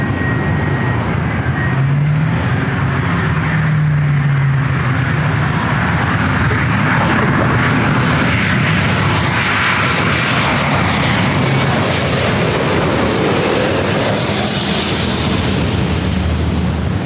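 A heavy jet airliner roars past at LAX, a loud, broad and steady engine rumble that fills the whole stretch and swells gradually without letting up.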